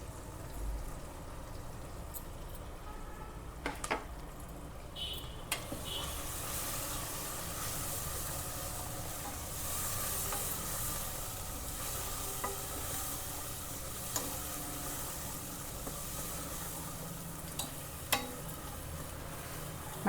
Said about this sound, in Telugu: ఉల్లిగడ్డలు, పచ్చిమిర్చి, అల్లం కూడా మంచిగా ఫ్రై అయింది